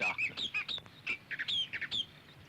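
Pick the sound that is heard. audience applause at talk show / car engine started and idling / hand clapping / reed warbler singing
reed warbler singing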